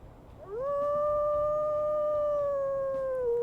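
A sustained, clear wolf howl from the wolf Rainbow in the game WolfQuest, rising quickly then holding a steady pitch for about three seconds before dipping at the end, loud and alone.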